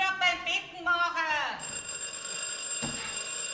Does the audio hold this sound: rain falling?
no